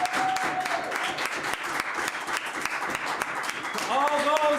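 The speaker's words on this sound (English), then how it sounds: "We want to hear you clapping" An audience at a live prize draw event claps and applauds continuously and fairly loudly, with an announcer's voice over the clapping.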